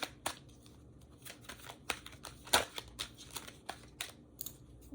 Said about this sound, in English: Shuffling for Gemini.